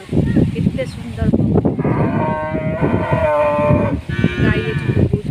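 A tethered cow lows with drawn-out, rising moos over a steady rush of wind and rain, loud and close, with a second call starting near the end.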